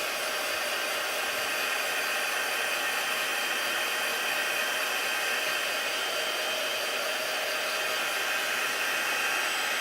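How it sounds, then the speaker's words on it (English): Steady, close whirring blast of a handheld heat tool drying a stamped paper card, continuous and unchanging throughout with no talking. "I'm just going to get my heat tool out"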